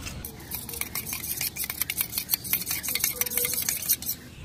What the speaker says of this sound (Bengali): আমি একটুখানি ময়দা নিয়ে একটু রঙের ভিতরে মিশাই দিচ্ছি